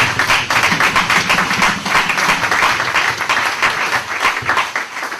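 A church congregation claps loudly and steadily, a dense wash of many hands applauding close by for several seconds before the clapping thins out at the end.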